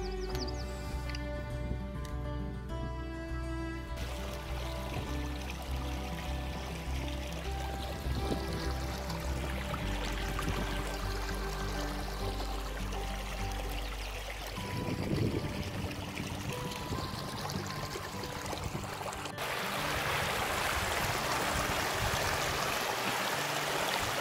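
Steady rushing river water flows continuously in the Cheviot hills, Northumberland, a broad wash of sound with no voices, shifting slightly in tone partway through.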